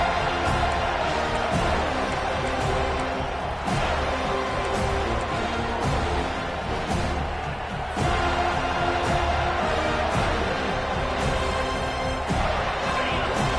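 Alabama football stadium crowd roaring on a third down, a loud, continuous dense din with rhythmic thumping beats and brief swells, heard across the whole stretch.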